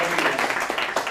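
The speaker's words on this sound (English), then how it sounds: "I would like to give a huge round of applause for you guys." A round of applause at a PhD thesis presentation on automatic control and robotics: a short burst of clapping from a small audience, mixed with voices.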